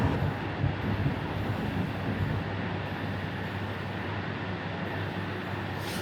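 OEBB 4020 electric multiple unit in Train Simulator on the Mittenwaldbahn, braking from speed: a steady low rumble of wheels and motors with broadband rolling noise, fairly loud and even throughout, no voices.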